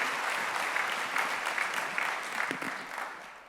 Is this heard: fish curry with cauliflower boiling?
no